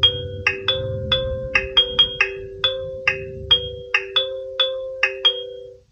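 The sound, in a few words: second ringtone of AOSU wireless video doorbell base station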